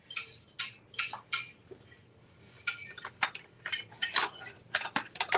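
Metal kitchen utensils clink and rattle as a spatula is grabbed from among them, a run of close, bright clatters and taps with brief pauses, no talking.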